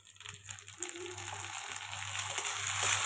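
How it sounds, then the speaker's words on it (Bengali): Chopped tomatoes hit golden-brown frying onions in a pan, giving a steady rising sizzle and wet crackle that grows louder toward the end, with no voices over it. "এই সময় একটা এইভাবে ছোট ছোট করে কুচিয়ে রাখা টমেটো দিয়ে দিচ্ছি।"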